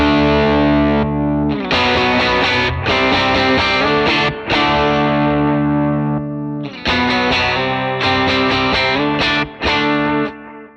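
Electric guitar played through a Fractal Axe-FX III with two stages of overdrive, compressor, delay and reverb, strummed in loud sustained distorted chords with short gaps between phrases.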